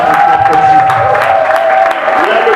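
A church congregation claps and cheers loudly and continuously, close and dense, while a voice with a sustained tone carries on over the applause.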